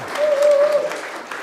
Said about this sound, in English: A wee round of applause.